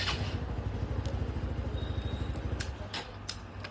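A TVS Sport BS6 motorcycle that stalls and is hard to start, with its engine running in a steady, fast low chugging near the listener before it dips slightly toward the end, with a few light clicks on top.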